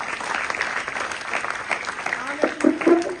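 Audience applause at a national eye donation fortnight event, steady dense clapping from a crowd throughout, with a voice briefly audible near the end.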